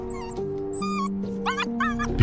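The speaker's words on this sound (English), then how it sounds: "when he opened his mouth, the whining sound came out again," A high, quavering whimper whines out in a few short, wavering bursts, close and fairly loud, over a sustained low hum.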